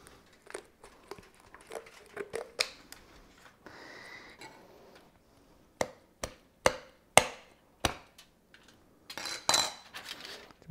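A series of sharp snapping crunches as kitchen scissors cut through tough turkey bones, coming in irregular bursts with short pauses, close and fairly loud.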